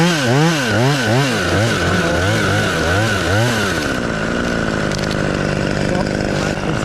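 Chainsaw cutting a small dead tree, its engine rising and falling in quick repeated revving surges, then settling into a steady loud roar close by.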